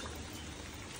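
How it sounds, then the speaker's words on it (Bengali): Rain falls steadily at the Mermaid resort in Cox's Bazar, a dense, even patter of drops hitting surfaces nearby with no voices. "বৃষ্টি দেখতে তো এমনি ভালো লাগে, কিন্তু মারমেডের বৃষ্টিটা আসলে অন্যরকম।"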